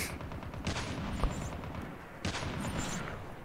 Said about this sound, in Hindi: कोई दो बंदे लड़ रहे हैं आसपास, एक तो शायद शॉर्ट गन यूज़ कर रहा है, आवाज़ से लग रहा है सिंगल।